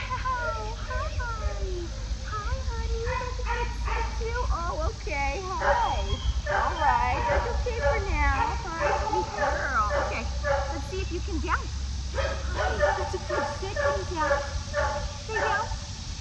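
A mixed-breed dog whimpers, yips and whines excitedly in a long, continuous run of high, wavering cries over steady background noise, with people speaking at times.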